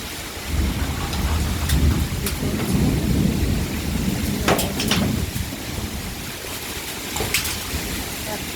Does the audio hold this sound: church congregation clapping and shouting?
no